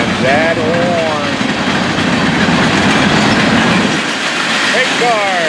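A freight train rumbles steadily past at close range, with the continuous roar of railcars and a horn-like tone near the start and end.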